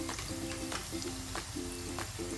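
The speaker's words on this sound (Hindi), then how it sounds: "सुनहरे गोल्डन ब्राउन होने तक इसको हम फ्राई करते रहेंगे" Oil bubbles and sizzles steadily in a pan as chicken kachori deep-fry, a dense crackling hiss with faint clinks in the background.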